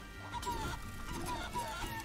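A chicken clucks in Guacamelee 2, short bright squawks repeating in quick bursts, faint and close over low game background noise.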